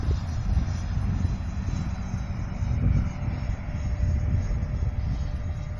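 An FMS Futura 64mm EDF RC jet on a landing approach gives a steady, fairly distant ducted-fan rush and low rumble that holds throughout without voices.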